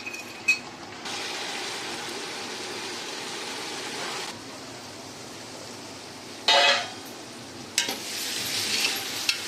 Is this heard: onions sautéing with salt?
yes